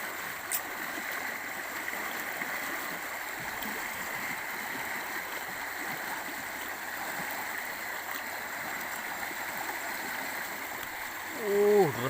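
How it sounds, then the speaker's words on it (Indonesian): Swift tidal water rushes steadily past a fish trap in a river, a continuous close, broadband flow with no pauses, and a brief splash or bump near the end. "Deras banget guys airnya guys. Airnya deras banget."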